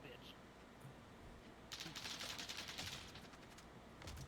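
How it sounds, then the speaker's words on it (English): Gunfire in the video game Warzone rattles as a rapid burst of distant shots for about a second, moderately loud over a steady background hum, with a few faint taps afterward. "Hearing some more gunfire."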